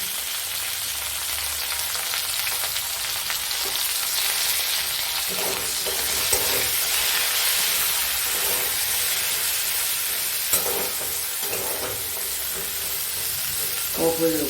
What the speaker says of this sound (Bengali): এবার সজনে ডাঁটাটা একটু ভাজা ভাজা হয়ে যায়